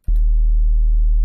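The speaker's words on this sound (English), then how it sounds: "It's just pure sine wave." A pure sine-wave sub bass from a Bitwig Studio sound design session, a single steady low tone that starts abruptly and holds loud and unbroken, with nothing else heard.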